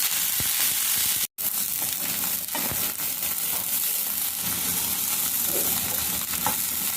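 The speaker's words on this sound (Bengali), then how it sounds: "ভেজে নেব হালকা করে একটু নাড়াচাড়া করে নেব ভেজে নেব লাল লাল করে" Loud, continuous frying from a pan of muri ghonto, a fish-head and rice dish, with scraping stirs running throughout and one brief dropout near the start; no speech.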